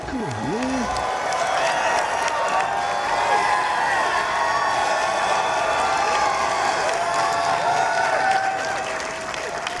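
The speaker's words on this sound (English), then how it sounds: "You can clap for that." Audience applause and cheering at a White House bill-signing ceremony in Washington, DC, a dense, steady wash of clapping with whoops and shouts running loud throughout, with a voice briefly audible at the start.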